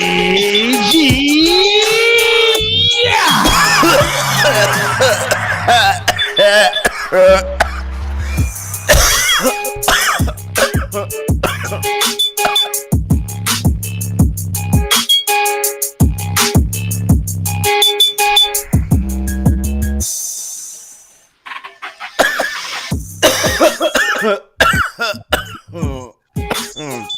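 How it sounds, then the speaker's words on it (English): During an indoor podcast recording, a person coughs and clears their throat in a burst of harsh, close bursts, with louder activity early on, then sparser choppy sounds before the sound drops away and resumes faintly. "There's nothing like a good cough."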